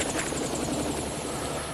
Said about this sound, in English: Right, well, we'll get in the helicopter ready to take.